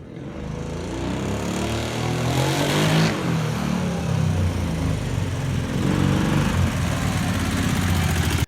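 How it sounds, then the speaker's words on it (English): A Kawasaki Brute Force ATV engine running rough and backfiring into the carburetor, a loud continuous close engine drone with uneven pulses and a brief rise in pitch partway through. "It's backfiring into the carb. A lot."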